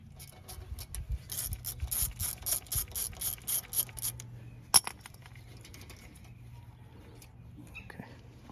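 A ratchet clicks rapidly while loosening an 8 mm bolt on a Ford Fiesta ABS sensor during front wheel bearing work, a close run of rhythmic pawl ticks, followed by a clank and quieter fiddling.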